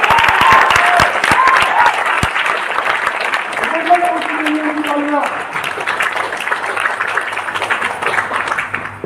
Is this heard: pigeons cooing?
no